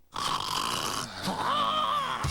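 A voice in a TV commercial mimics loud snoring: a drawn-out, droning rasp that swells and sustains close up for about two seconds, with a brief dip midway.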